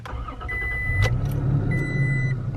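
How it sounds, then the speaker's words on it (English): A 2021 Toyota Tacoma pickup's engine is started with the key: a brief starter crank, then the engine catches and settles into a steady low idle, close and fairly loud, with a chime sounding. "you get to watch me turn on my truck with the key"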